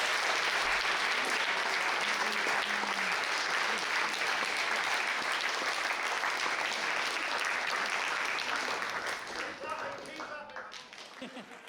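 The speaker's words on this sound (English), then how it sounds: "So big round of applause, please, for" An audience at a Battle of the Bands event applauds to welcome a speaker, sustained loud clapping filling the room before tapering off near the end, with some voices mixed in.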